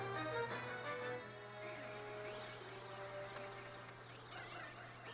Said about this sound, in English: You hear him doing the sparrow call and everything?